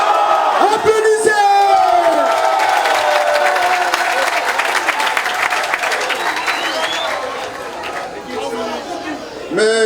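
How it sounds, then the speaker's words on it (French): A large crowd at a Gabonese presidential campaign rally claps and cheers loudly, with shouts and whoops over dense applause that gradually eases toward the end. "Applaudissez."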